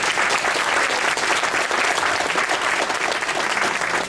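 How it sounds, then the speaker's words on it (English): A large audience applauds steadily for the governor and the mayor, loud sustained clapping from many hands throughout with no pause. "Please give another round of applause for our governor and the mayor."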